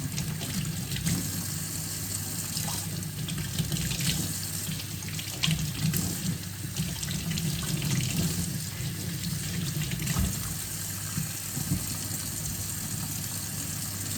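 A kitchen tap runs in a steady, close gush as produce is rinsed piece by piece beneath the stream, with water splashing into the sink and no talking.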